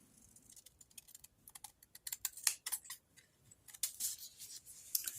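Scissors snipping off the tabs of a die-cut paper envelope and card piece, a close series of quick, crisp clicks and cuts in irregular bursts over a quiet background.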